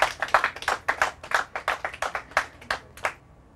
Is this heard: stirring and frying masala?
no